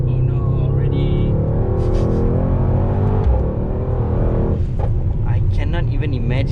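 A Mercedes-AMG GT 63 S four-door with sports exhaust roars loud and close from inside the cabin, its engine note rising and falling under hard acceleration, with talk over it.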